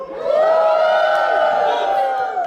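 A crowd at an Albanian wedding screams and cheers together in one loud, sustained burst of overlapping voices close by.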